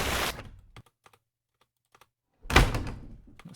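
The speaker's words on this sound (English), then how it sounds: "That's the sound of the door opening there." A door sound effect opening with a loud, close thud, a brief knock near the middle, and a second burst of broadband noise after a near-silent gap.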